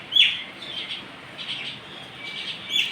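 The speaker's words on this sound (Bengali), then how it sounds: "পাখিগুলো কেমন খেলা করছে দেখো বৃষ্টিতে ভিজে ভিজে।" Birds out in steady rain give a few short, high chirps, one near the start and another near the end, fairly faint over a soft wash of falling rain, with no voices.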